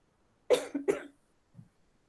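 Two quick, close coughs in a quiet room, followed by a faint soft sound and then silence.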